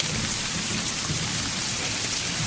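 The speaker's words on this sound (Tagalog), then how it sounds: "napakalakas ng ulan" Heavy rain pours in a dense, steady roar with thunder rumbling underneath, loud and continuous throughout, with no voices.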